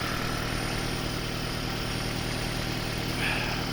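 A 2015 Toyota Prius with 190,000 km starts its engine, a steady low hum and vibration running continuously at close range, with a slight rise near the end and no talk.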